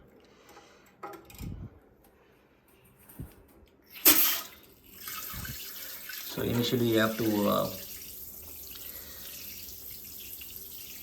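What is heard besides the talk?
water spraying from handheld bidet hose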